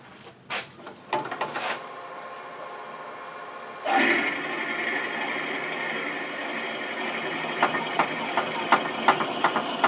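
A few faint knocks, then a wood lathe with a drill chuck spins up into a steady whirring hum with scattered ticks and light clatter, fairly close.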